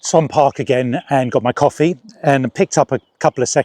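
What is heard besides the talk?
No everyday noises stand out.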